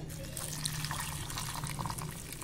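Hot water is poured from a vessel over soya chunks in a bowl, making a continuous soft splashing rush of liquid, fairly faint and steady with no pauses.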